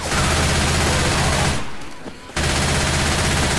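Sustained, dense gunfire in the Left 4 Dead 2 zombie shooter, a loud continuous rattle of rapid shots that briefly thins out midway before resuming at full intensity.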